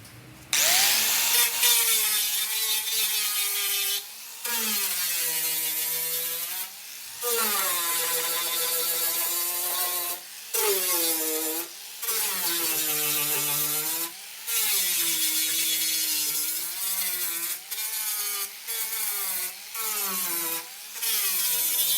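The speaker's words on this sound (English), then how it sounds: "I'll just sand them off, and this job is complete." Power sander running Cubitron abrasive discs on a custom boat transom during fabrication, a loud continuous whirring grind with shifting pitch, stopping briefly about seven times before starting again, no talk.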